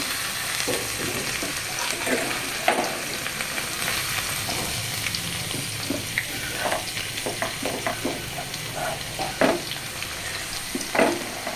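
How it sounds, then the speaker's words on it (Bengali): Chopped ginger and garlic frying in oil in a home kitchen, a continuous low sizzle broken by scattered stirring scrapes and clinks, with occasional faint talk in the background. "প্রথমে আদা কুচিটা দিয়ে দেবো তারপরে রসুন কুচিটা দেবো"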